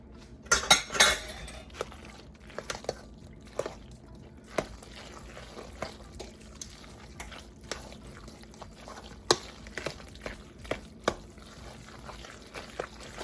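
Heavy cream and egg mixture is stirred into macaroni and cheese, giving a series of close, intermittent spoon clinks and scrapes against a bowl with soft wet squelches between them.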